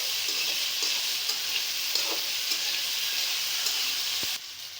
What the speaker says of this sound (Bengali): আলুটা হালকা ভেজে নিতে হবে।